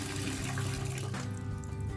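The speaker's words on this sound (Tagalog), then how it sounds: "So, ato lang punon ang sudlanan sa tubig." Water pours steadily into a container from a tap, a continuous close rushing and splashing that shifts slightly in tone partway through, as if the level is rising, with no voices.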